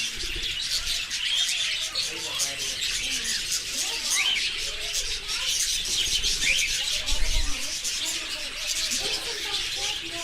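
Pet parrots and a budgie chirp and tweet continuously at moderate distance, a busy mix of high twittering calls with occasional cooing.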